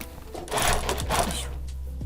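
A sewing machine runs a short backstitch while sewing a fabric neck warmer, two close bursts of rapid stitching, loud and near, with a steady motor hum between them and no talk.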